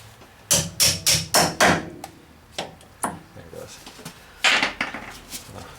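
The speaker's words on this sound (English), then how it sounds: "So now I'm just kind of working my way, tapping it out." Metal rings under a hammer as a bent Tundra rack is tapped back into shape, giving loud close sharp strikes in quick bursts of three to five, separated by pauses with a few softer taps.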